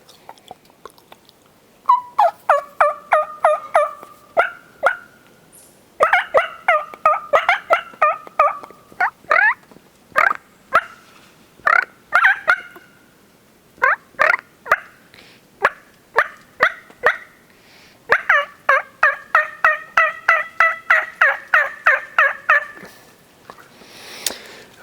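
Turkey calls blown on a latex mouth call, repeated bursts of sharp yelps and cutts in rhythmic series with short pauses between runs, loud and close with no talking; a person imitates the bird.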